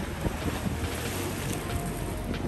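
Lake waves wash and break along a sandy Michigan state park beach, a steady broadband surge with continuous wind buffeting the microphone throughout.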